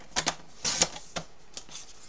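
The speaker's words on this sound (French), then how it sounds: "je vais couper dans l'autre sens. Je vais mettre les 7 à ce niveau là pour couper le bleu." Scissors or a paper trimmer cut blue flowered scrapbook paper in a few short, crisp snips and slicing strokes, close and fairly quiet, with brief pauses between cuts.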